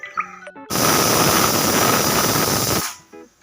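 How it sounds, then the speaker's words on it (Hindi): A pressure cooker on a gas stove lets out a loud, steady hissing whistle of escaping steam while cooking carrot halwa, bursting in abruptly and holding for about two seconds before cutting off, with quieter kitchen sounds on either side. "सो गाइज यहाँ कुकर में सीटी आ चुकी थी"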